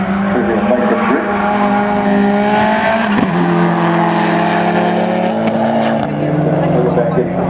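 Race cars with 900 to 1300 cc engines drift through a corner at a speed festival, several loud overlapping engine notes revving and shifting pitch as cars pass, with a voice talking throughout.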